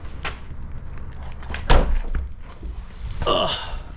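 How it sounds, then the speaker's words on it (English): The hood of a supercharged Shelby GT350 is shut with a solid thunk in a garage, one firm closing impact midway, preceded and followed by faint handling clunks, quiet and close. "Let me go ahead and actually shut my hood real quick"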